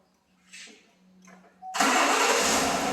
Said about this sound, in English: start the car, start the truck